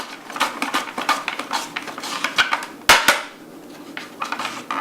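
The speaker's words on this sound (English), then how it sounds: "So I'm just shaving it really fine, just like that." Beets shaved very thinly on a mandolin slicer, a rapid series of crisp scraping, clicking strokes at close range with irregular rhythm and a sharper knock near the middle, no talking.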